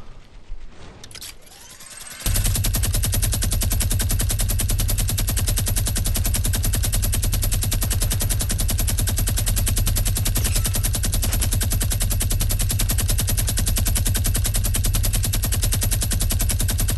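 Sustained rapid automatic gunfire in a first-person shooter match, a dense unbroken stream of loud shots starting after a brief quieter moment and continuing to the end with no pauses.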